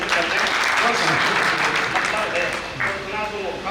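A poetry gathering audience breaks into steady applause that fills the room, dense and sustained, with voices faintly mixed underneath.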